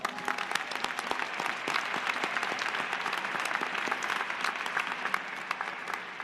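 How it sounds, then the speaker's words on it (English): Audience applause at a Florida State University fall commencement ceremony, a large crowd clapping steadily throughout with crisp, dense claps echoing in a big hall, no voices over it. "Please give them a round of applause."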